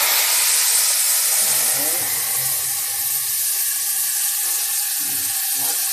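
Cumin seeds tempering in hot oil make a loud, continuous sizzling hiss close up, with fine crackles and pops throughout and faint voices underneath.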